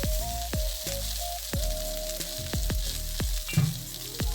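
Onions and bell peppers frying in a pan give off a steady close sizzle, broken by sharp crackles and pops at irregular intervals, with no voices present.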